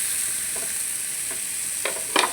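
Tomato pieces frying in a pan with a steady, close sizzle and a few brief stirring scrapes near the end.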